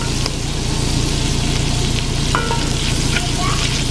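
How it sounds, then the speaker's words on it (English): Butter melts in a pan on a home stove before shallots go in, giving a steady, close sizzle and frying crackle throughout with a few faint clinks. "So I have added the butter, and once it melts, I'm going to add the shallots."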